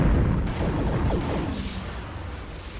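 Missiles strike a ship in the space game Escape Velocity Nova, a burst of heavy rumbling explosions that booms loudly at first, then rolls and fades over a few seconds.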